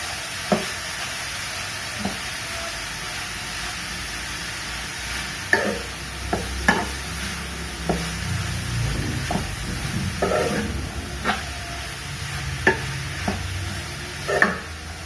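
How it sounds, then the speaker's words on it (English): Grated carrot fries in ghee for carrot halwa, giving a steady close sizzle broken by periodic sharp scrapes and knocks as a spoon stirs the pan. "Fry well with the ghee nicely."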